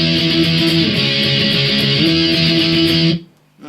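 Distorted electric guitar power chords from the chorus of a song, strummed in a fast steady repeating pattern for about three seconds, loud and alone, then stopping abruptly.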